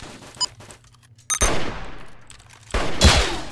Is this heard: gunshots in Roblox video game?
yes